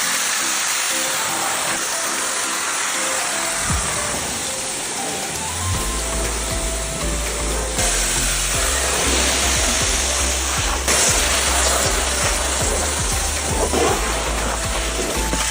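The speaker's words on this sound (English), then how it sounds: "The pressure washer is the only tool powerful enough to cut through this caked-on layer." A pressure washer blasts a steady, loud hiss of spraying water against the mud-caked door cards and trunk liner of a flood-damaged car, close up and continuous with shifting intensity.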